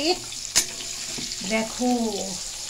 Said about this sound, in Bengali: দেখো গরম তেলের ওপর আমরা তেলের ওপর আলুগুলো ছেড়ে দিয়েছি